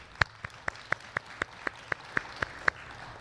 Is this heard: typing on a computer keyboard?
no